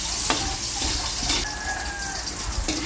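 Ginger and onion sautéing in oil left from frying, for chicken adobo, give a steady close sizzle with light stirring scrapes throughout; no one speaks.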